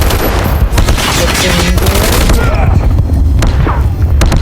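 Rapid bursts of gunfire in the video game Call of Duty Mobile crackle loudly in quick succession, with sharp repeated shots and booming impacts, mixed with faint voices.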